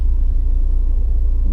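A Porsche 968 Cabriolet's engine gives a steady, loud low rumble from inside the moving car, with a brief rising tone near the end.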